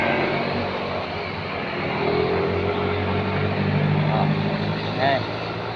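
Honda Click and Yamaha NMAX motorcycles pass by on a mountain road, a steady broadband engine rush that swells and fades without a clear close peak, with voices talking over it.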